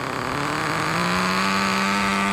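Engine of an HSP 94122 4WD two-speed nitro RC car revving, a loud, close, buzzing whine that rises and holds steady at high pitch, with no voices.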